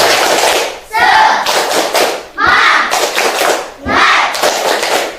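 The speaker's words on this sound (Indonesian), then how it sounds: "Tepuk semangat" Rhythmic group spirit clap from children at a school gathering, loud bursts of patterned clapping in repeated phrases with short pauses between, voices chanting along.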